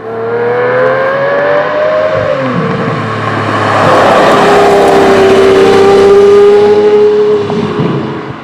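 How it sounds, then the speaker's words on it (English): A Lamborghini Murcielago LP640 accelerates hard from highway speed, its engine note loud and close, rising steadily through a long sustained pull with a brief dip midway before climbing again. "When you put your foot down at 65,"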